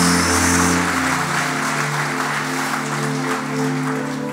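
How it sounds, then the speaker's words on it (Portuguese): A church congregation bursts into sustained applause during an evangelical service, dense hand-clapping filling the room steadily throughout, with faint musical tones underneath and no speech. "Aplauda a vida dela, aplauda a decisão dela."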